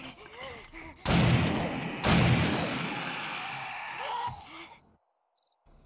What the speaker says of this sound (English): now we'll use the double barrel